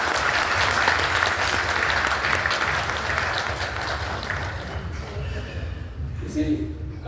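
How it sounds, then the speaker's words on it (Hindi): Loud sustained applause from a convention audience in a hall welcoming guests, dense clapping that gradually thins and tapers off near the end, with a faint voice emerging as it dies down. "मैं चाहूँगा कि जोरदार तालियों से एक बार स्वागत करें"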